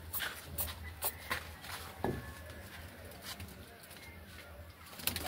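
Pigeons in a rooftop loft holding over 150 birds: soft cooing, wing flutters and pattering feet, close but quiet, with scattered taps and bursts against a low steady background.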